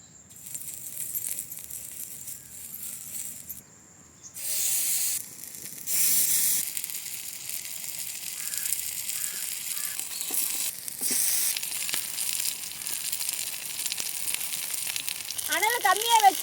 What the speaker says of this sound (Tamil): அனல் கம்மியாக வச்சு சிக்கனை நல்லா வேக வச்சுக்கலாம்.